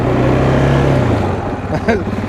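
A 2002 Yamaha Kodiak 400 ATV in two-wheel drive, its engine revving hard then easing off while struggling in snow, loud and close with a brief voice near the end.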